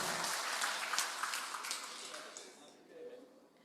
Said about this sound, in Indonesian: Terima kasih dan tepuk tangan untuk keluarga besar PLN